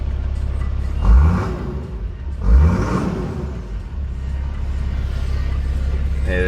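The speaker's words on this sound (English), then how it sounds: "the exhaust sounds nice on this thing" Two quick, loud engine revs burst from a running car's exhaust, each rising then settling back into a steady idle rumble.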